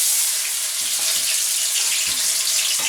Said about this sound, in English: Listen to that onion sizzle.